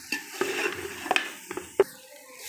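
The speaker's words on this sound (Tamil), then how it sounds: "நல்லா தூளெல்லாம் போட்டு நல்லா கிளறி விட்டுக்கலாம்." Spice powders (coriander, mutton masala and chili) are stirred into mutton curry in a pan, giving a few soft scraping strokes and light clinks over a faint sizzle, with no talking.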